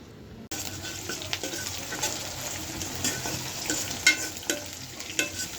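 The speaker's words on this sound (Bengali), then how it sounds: "পেঁয়াজটা ভাজা হয়ে গেছে" Onions and garlic frying in a pan, a steady close sizzle with stirring scrapes and a few sharp clinks, starting abruptly after a brief quiet moment.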